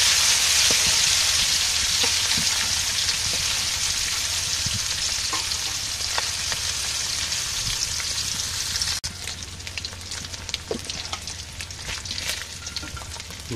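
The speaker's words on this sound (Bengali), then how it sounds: "এখন মাছ ভাজবো, এখানে শিং মাছ আর কই মাছ আছে" Shing and koi fish frying in a pan, a loud, dense, continuous sizzle that turns sparser and crackly with sharper pops partway through.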